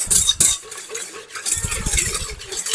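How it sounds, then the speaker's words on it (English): A spoon stirs a yeast mixture in a bowl to dissolve it, with light clinks and scrapes against the bowl in uneven bursts, close and with no talking. "you got to mix it together so that it activates nicely"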